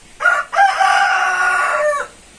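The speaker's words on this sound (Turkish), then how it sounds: "Tavuklar seni bekliyor." A rooster crows loudly and close by, one long drawn-out call after a short opening burst, with no talking.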